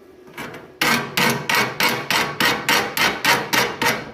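Slag being chipped off a MIG weld bead: a faint tap or two, then a rapid, even series of about ten loud, sharp metallic strikes close by, with no talking.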